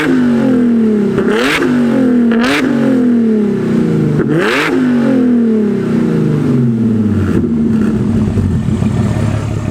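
A car with a custom exhaust, gutted catalytic converters, no mufflers and high-flow resonators revs hard repeatedly, each loud rising blip falling back in a raw, raspy cycle, close and alone.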